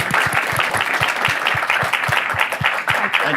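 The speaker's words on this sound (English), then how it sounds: "can we give him a round of applause" A crowd applauds steadily, dense clapping from many hands filling the whole stretch without a break.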